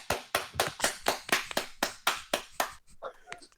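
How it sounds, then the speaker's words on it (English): About ten sharp, evenly spaced hand claps, close and crisp, from a live studio audience on a comedy podcast, trailing off into faint voices at the end. "give us a round of applause"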